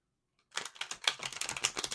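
Tarot cards being shuffled by hand, a run of crisp rapid riffling and slapping bursts after a brief silence, close and fairly quiet.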